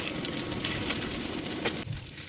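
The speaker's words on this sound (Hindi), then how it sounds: "अब हम ऑयल डालकर और पैन में और कबाब को डाल देंगे" Kebabs frying in oil in a pan give a close, constant crackling sizzle that drops off abruptly near the end, leaving a quieter hiss.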